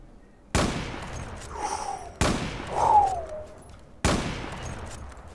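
Three sharp gunshots from the video game Zula, spaced about 1.7 seconds apart, each a loud sudden crack with a short decaying tail, and faint game sounds in between.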